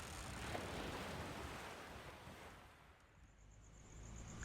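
Ocean waves wash in as a soft, steady surf hiss with a gentle swell that rises and eases, faint and distant with no other sounds over it.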